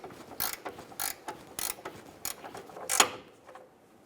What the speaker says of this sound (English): We're going to use our 21 while holding the bolt. We're going to snug down the nut.